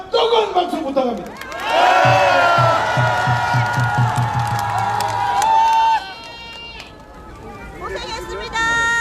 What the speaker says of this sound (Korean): 우리 안중규 대표를 위해서 다시 한번 뜨거운 박수 부탁합니다